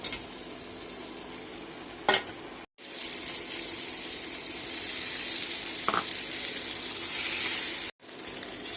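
Spices with onion, chilli, cumin, coriander, tomato sauce and fried potato for a soybean curry sizzle steadily in a pan, close and continuous, with a couple of sharp stirring clinks and scrapes.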